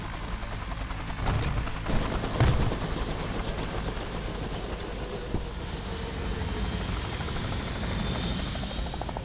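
Helicopter flying in the video game Off the Road Unleashed, a continuous rotor and engine drone with a few louder thumps early on and a rising high whine in the second half.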